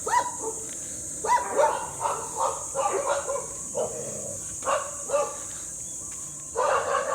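Several dogs romp and play together on a street in the Philippines, giving scattered short barks and yips in bursts, moderately close, with brief pauses between outbursts.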